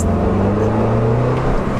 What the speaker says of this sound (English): it actually has a nice little burble here, again, being a stock exhaust.